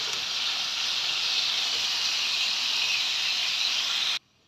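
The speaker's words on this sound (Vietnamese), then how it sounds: "Rồi đậu hũ mình cũng chiên luôn." Tofu frying in hot oil gives a loud, steady sizzling hiss that runs evenly until it stops abruptly near the end.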